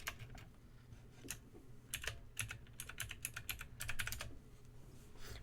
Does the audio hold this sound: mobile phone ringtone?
no